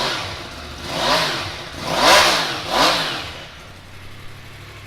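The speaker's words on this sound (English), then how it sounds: "I'll start it up so you can have a little listen to it" A 2018 Yamaha MT-10 motorcycle, a 989 cc superbike-based naked bike with low mileage, revs up three times from idle in loud, rising and falling blips close by before settling back to a steady idle.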